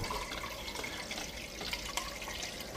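Ionized Kangen water at pH 9.5 pours from the unit into a container, producing a steady, quiet hiss of running water with faint splashing and no voices.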